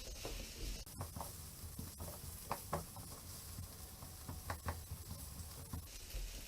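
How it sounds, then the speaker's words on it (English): Steady sizzling and crackling of vegetables frying in sesame oil, with occasional stirring clatter, close by and continuous. "you'll be able to smell the delicious sesame goodness when you start frying"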